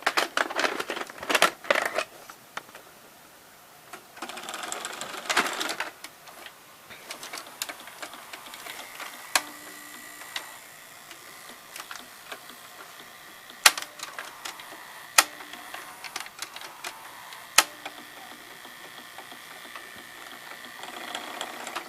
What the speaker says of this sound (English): It's making a clicking sound.